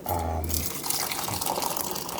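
Hot water gushes steadily into glass canning jars being warmed for a sloppy joe canning batch, a close, continuous filling splash preceded by a brief low hum.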